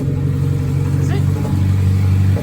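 A turbocharged B18-engined VW Bug revs loudly and steadily with its tires spinning, the engine drone close and dominant while voices talk over it.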